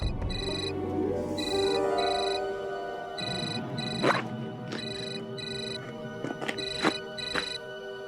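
An incoming call sets off a melodic phone ringtone of repeating bright tones, clear and fairly close, over a low background music bed in a domestic drama scene.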